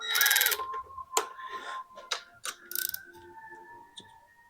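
A ratchet wrench breaks loose an over-torqued bolt on a 1945 International K3 truck, with short bursts of sharp metallic clicking, close and fairly loud, separated by pauses.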